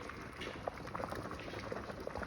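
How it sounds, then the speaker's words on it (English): Spaghetti boiling in a pot of water, a steady close bubbling and popping with small irregular bursts throughout. "while the pasta is boiling, you wanna continue to mix it."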